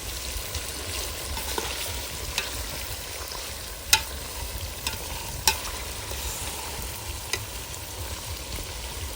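Chicken sizzles and fries steadily in a hot pot over an outdoor wood-fired stove in a farm field, with occasional sharp scrapes and clinks of a spoon stirring.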